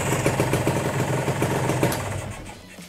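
A Kawasaki Ninja R 150 motorcycle idles close by with a steady, pulsing engine note, then is switched off and the sound drops away near the end.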